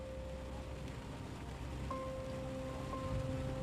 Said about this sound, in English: the skies over the airport opened up and heavy rain poured down